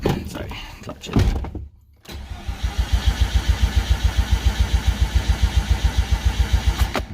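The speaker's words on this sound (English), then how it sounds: "So now let's go try start it. First start on the Greddy turbo." A Mazda RX-8 rotary engine with a newly installed Greddy turbo cranks, falls briefly silent, then catches and settles into a loud, rapid, pulsing idle close by, with a voice heard at the start.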